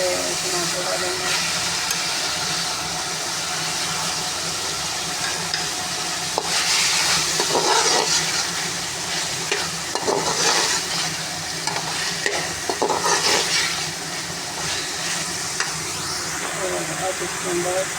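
Tomatoes tipped into a hot frying pan and stirred while making achari chicken macaroni, giving a steady, close sizzle and hiss with scraping stir strokes throughout.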